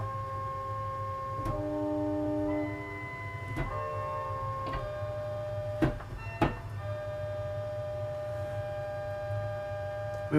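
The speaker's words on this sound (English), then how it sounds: "we also have got a mixture as well" Mixture stop on an OPUS I Hauptwerk virtual pipe organ played alone: bright, reedy chords with many stacked high partials, changing every second or so, with a few sharp key-like clicks and a steady low hum beneath, moderately quiet.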